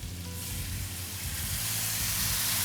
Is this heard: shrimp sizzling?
yes